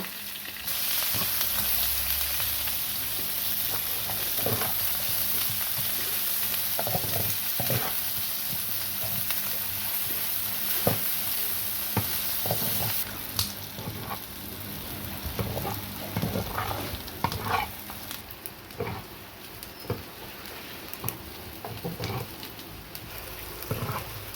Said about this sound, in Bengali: লঙ্কা ভেজে নেব, পেঁয়াজ রসুনগুলো হালকা ভেজে নেব।